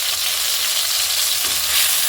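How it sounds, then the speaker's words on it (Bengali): Spices fry in hot oil in a pan while being stirred, giving a loud, steady sizzle with soft scraping underneath, up close and with no talking. "এখন মশলাটা কষিয়ে নেব।"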